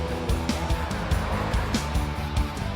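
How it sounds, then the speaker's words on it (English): A taxi cab reverses and turns at night, its engine and tires producing a steady, fairly close rumble with brief tire scrapes as the car maneuvers. "The cab reverses and makes a turn."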